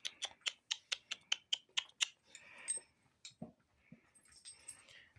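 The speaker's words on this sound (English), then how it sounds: "I got a dog." A dog gives a rapid series of about ten high, even-paced whimpers, close and loud, then trails into scattered softer whines and snuffles, with no talking.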